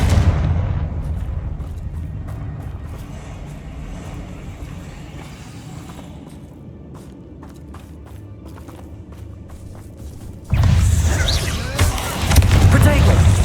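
A Confringo explosive spell in Hogwarts Legacy lands with booming blasts over a low rumbling game backdrop, and a loud burst near the end spreads into a wide, crackling roar.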